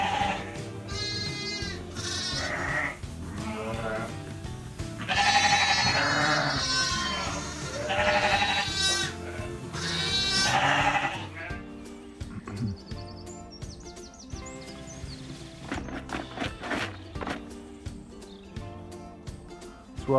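On a Welsh homestead at lambing time, a ewe and a lamb only minutes old bleat in repeated, wavering calls, loud and close at first, then fainter amid quieter farm sounds.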